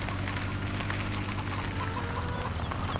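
Chickens in Farming Simulator 17 cluck continuously over a steady low hum, several birds clucking at once at moderate volume.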